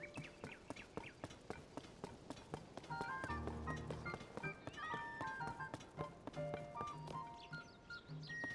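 Horse in Zelda: Tears of the Kingdom, its hooves clopping in a steady trot under game music and chimes, with a brief whinny-like bit near the middle.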